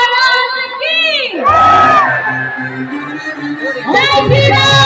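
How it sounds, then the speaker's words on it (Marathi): A crowd at the Panvel Dahi Handi festival shouts and whoops loudly in cheering bursts, with children's yells and voices rising and falling; no distinct clapping stands out over the shouting. "तर जोरदार टाळ्या झाल्या पाहिजे"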